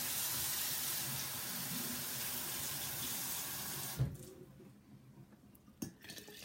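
Warm water runs from a tap into a measuring cup in a steady strong stream for about four seconds, then stops abruptly, followed by a few faint clinks and handling noises nearby.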